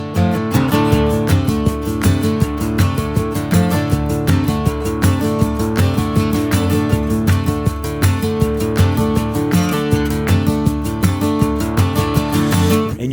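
A full band song plays loud and dense, with wide stereo guitars over steady driving drum hits. The rhythm is constant and the music plays alone, with no talking.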